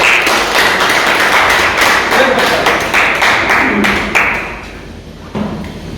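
Audience claps loudly for a guest coming on stage at a chairman's office function in Jhushi, a dense run of hand claps and taps that thins toward the end, with voices mixed in.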